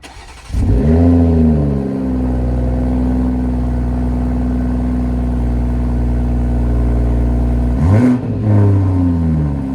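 A BMW G20 M340i cold-starts with a short whir, then roars up into a loud, high idle that holds steady and close for several seconds before a brief rev blip near the end.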